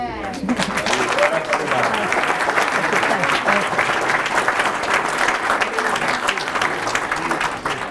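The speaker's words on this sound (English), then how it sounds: "Please join me in a warm round of applause." A crowd of listeners gives steady, dense applause in a hall for a speaker at an event about defeating an oil refinery in New Hampshire, loud and sustained throughout, with murmurs of voices within it.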